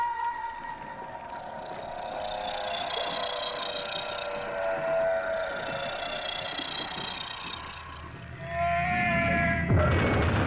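Whale calls are played underwater to lure a Basilosaurus. Long, drawn-out moaning tones rise and fall over a low rumble, and the sound grows louder toward the end.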